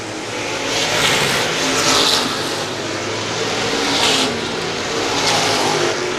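350 Super race cars at Star Speedway roar around the track in a feature race, a loud continuous engine drone that swells as cars pass close by, with no one talking over it.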